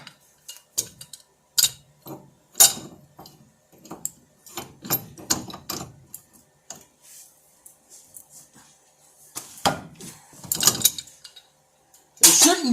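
Scattered metallic clicks and knocks from a large adjustable wrench working on the tie rod of a Chevy Silverado, sparse and uneven with quiet gaps between.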